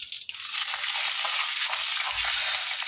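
Mustard seeds and fennel seeds sizzle steadily in a spoonful of hot oil while making sweet-and-sour lemon pickle, a dense continuous crackling hiss close up with a few low stirring thumps.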